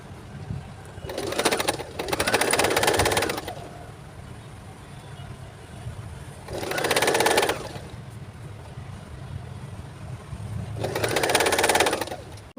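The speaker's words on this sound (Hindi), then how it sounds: "अब इसकी हम स्टिच करेंगे।" A sewing machine stitches a newborn baby cap in three loud, sustained runs separated by pauses, with faint background noise between bursts.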